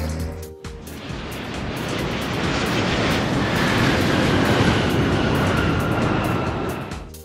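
Airplane in a children's cartoon about vehicles: a broad, roaring jet whoosh that swells and holds loud across the clip, then eases at the end, with no voices.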